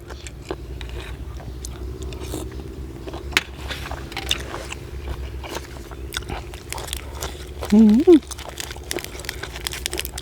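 Sweet, crunchy apple snails, eaten with a fermented fish dipping sauce, are bitten and chewed up close with scattered crisp crunches and clicks and a brief murmur of a voice near the end.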